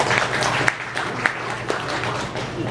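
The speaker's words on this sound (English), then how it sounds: "You can applaud." An audience at a Home Brew Robotics Club meeting gives light, scattered applause: a soft, continuous patter of clapping with a few sharper individual claps standing out.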